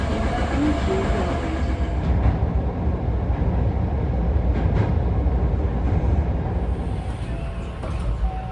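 A Hankyu train in Japan rumbles steadily along the rails, a loud continuous roar with faint clicks and rattles, heard from inside the carriage.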